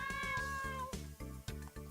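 A cat in the JoJo's Bizarre Adventure: The Seventh Stand User game gives a series of short, clear meows over a looping, rhythmic game music backdrop; no speech.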